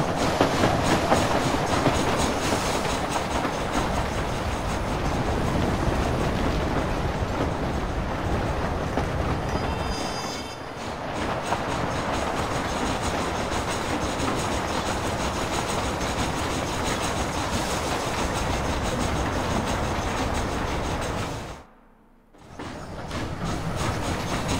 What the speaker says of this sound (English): Train. Magnificent.